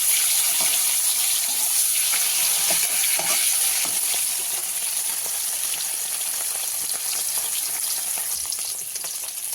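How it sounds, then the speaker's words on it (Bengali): Pieces of katla fish fry in oil, giving a steady, close sizzle with a crackling, spattering texture that carries on without a break and without talk. "মাছগুলো সামান্য, বেশি ভাজা করব না, একটু সামান্য হালকা ব্রাউন হলে"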